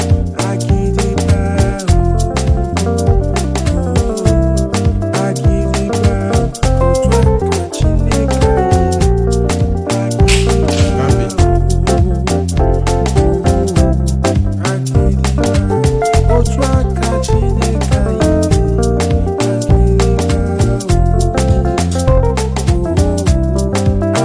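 Praise music on keyboard with scale runs, vamping and groove patterns, a dense, loud, continuous stream of chords and bass with busy rhythmic accents throughout, no voices.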